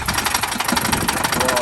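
A Range Rover Vogue engine idles loudly and close with a steady, rapid knocking rattle running through it, continuous for the whole stretch.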